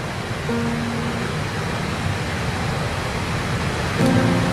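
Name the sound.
waterfall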